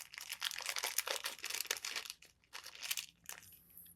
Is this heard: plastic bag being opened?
yes